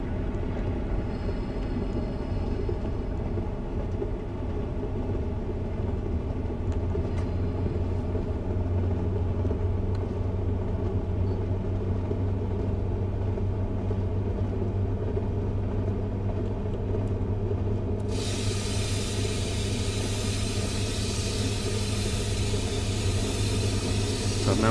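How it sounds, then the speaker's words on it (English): Class 45 diesel locomotive in Train Sim World, on a run from Leeds to Manchester Victoria, giving a steady deep engine rumble as power is shut off and the brakes go on, with a sharp rise in broadband hiss near the end. "at this point I'm now going to shut off the power, and I'm going to apply the brakes"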